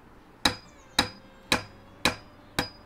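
Five sharp hammer strikes ring out at a steady, even pace in the Demolish & Build 3 demolition game, each crack loud and close with a quick decay and no talking.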